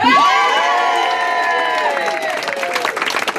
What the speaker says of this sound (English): I would now like a round of applause for Aidan arriving on time here today.